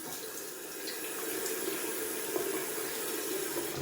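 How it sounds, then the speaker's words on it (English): Cold tap water runs steadily into a sink for wet shaving, a continuous close splashing hiss with no voices. "We're gonna add some cold water to the face."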